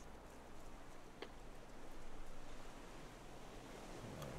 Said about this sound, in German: die Wellen, die schlagen so hoch, die kommen sogar hier rein